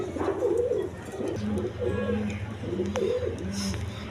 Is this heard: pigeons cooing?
yes